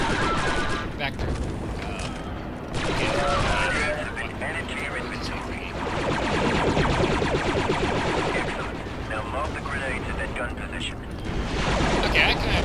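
Thermal detonator grenade blasts in Star Wars Republic Commando, mixed into a steady, loud stretch of rapid blaster fire and combat din, with bursts swelling and falling across the scene.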